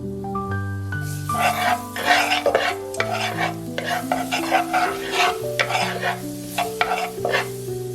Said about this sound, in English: heat 1 tablespoon of oil in a wok or large pan over medium-high heat. Add the garlic and sauté until fragrant.